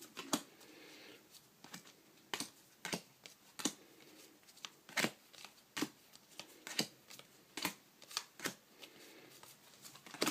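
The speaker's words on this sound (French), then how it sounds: "Deux secondes, je classe un peu mes cartes." Trading cards from battle-pack booster packs being sorted by hand: crisp close flicks and snaps come one after another in an uneven rhythm over a quiet background, with no voices.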